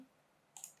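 A quick pair of light computer mouse clicks during a SketchUp software demonstration, faint and close, in an otherwise quiet room.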